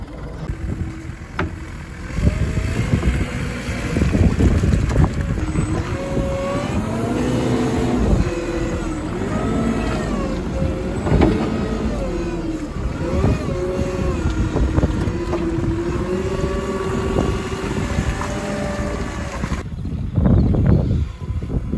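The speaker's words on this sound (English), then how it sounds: "I'll drive around the bale and then we'll push it against the wall here." A Weidemann loader drives around bales on a farm, its engine note rising and falling through repeated throttle changes, fairly loud and close with wind buffeting the microphone, then dropping away near the end.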